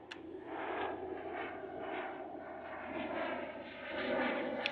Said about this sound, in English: don't know if that's the police helicopter or the air ambulance